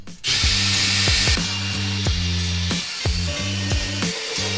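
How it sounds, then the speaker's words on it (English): A power drill drives screws into a fiberglass half-cabin boat hatch during restoration, the motor whining in repeated short bursts that rise and stop as each screw seats, close and loud with no talk. "Just got to be putting some screws in here just to hold it in place."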